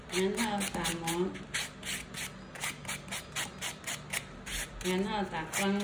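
A nail is filed and buffed on a fiber wrap during nail specialty state board exam practice, giving a soft, steady scratchy rubbing close by that runs beneath continuous talking.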